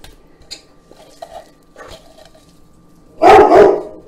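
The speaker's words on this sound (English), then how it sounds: "There's actually a car out front, so I expect the dogs to kick off any moment now." Two dogs break into a loud burst of barking near the end, set off by a car parked out front, after a quiet stretch of faint kitchen clinks and pan sounds.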